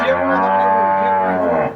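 A Jersey dairy cow on a cattle farm gives one long, loud, steady moo from close by, fading at the end.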